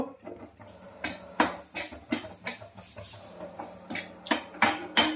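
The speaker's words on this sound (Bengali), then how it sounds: "এই একটা মাখন দিয়ে দিলাম, দিয়ে এবার ভালো করে একটু নেড়ে নেব" Metal spoon scraping and clinking in a pan while fried semolina is stirred with butter, a steady series of close, sharp knocks and scrapes repeating every half second or so.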